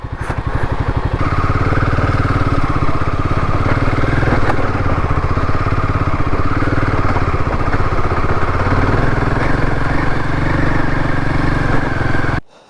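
A motorcycle engine runs steadily and loudly on a mountain road, a continuous close drone with faint clatter that holds for about twelve seconds before cutting off abruptly.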